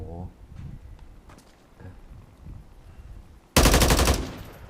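Gunfire in Call of Duty Warzone: a loud burst of rapid shots erupts near the end, after a stretch of someone talking over soft game footsteps and ambience.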